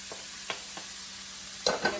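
Onions and ground hamburger meat cooking in a pan for a taco casserole, giving a low steady sizzle with a few soft scraping stirs and two louder stirring clatters near the end.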